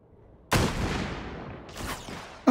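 A single loud gunshot bursts out in the VR shooting game Hot Dogs, Horseshoes & Hand Grenades and decays into a long reverberant tail, followed by a second, softer report and the onset of another sharp hit.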